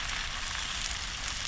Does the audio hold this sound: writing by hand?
no